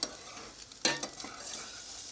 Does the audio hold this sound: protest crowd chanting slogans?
no